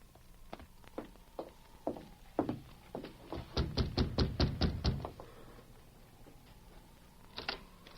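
Knocking on a door as a radio drama sound effect: a few scattered knocks, then a quick run of sharp raps, then a final knock.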